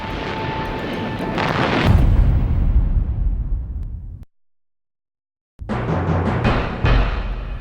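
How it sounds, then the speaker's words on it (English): Axis artillery shelling Tobruk, Libya, in archival 1941 World War II footage: a heavy sustained roar of explosions and rumbling blasts fades out into silence, then resumes with sharp repeated detonations. "In North Africa, Axis forces undertake a new attack with their artillery, shelling Tobruk, Libya."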